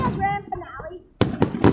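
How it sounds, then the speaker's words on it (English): Grand-finale fireworks go off in three or four sharp, booming bursts in close succession, just after a stretch of casual talk. "There's gonna be so many fireworks."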